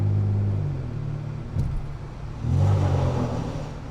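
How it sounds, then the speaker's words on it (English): A Ford Taurus Limited drives under a bridge, its exhaust rumbling loud and close, then swelling again in a short rev as the sound echoes off the structure. "gotta make a little exhaust noise right now. A little under the bridge."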